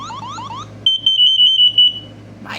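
A home smoke detector sounds off with a rapid run of loud, piercing, evenly pulsed beeps. An electronic chirping tone comes just before it, and the beeps ring out close with no talking.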